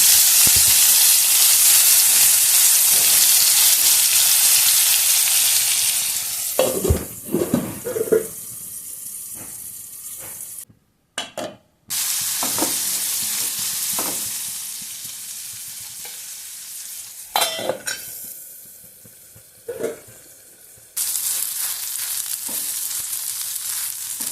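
Stuffed brinjal masala fry cooks in a pan with a loud, bright sizzle. Stirring clatters and a lid knock break in between quieter stretches with brief near-silent gaps.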